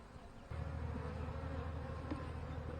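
A dense, steady hum of honeybees swarming around an open hive frame during a queen check, the buzzing swelling in abruptly and holding loud and close with no talk.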